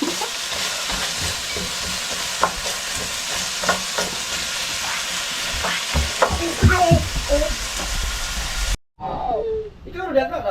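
Carrots and potatoes fry in a pan for pork igado, giving a steady sizzle with stirring scrapes, while voices talk over the cooking; the sound drops out briefly near the end.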